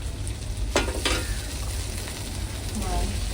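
Tomatoes drop into sizzling country chicken curry in a village kitchen, a steady loud frying hiss throughout with two sharp stirring scrapes near the start, no talking.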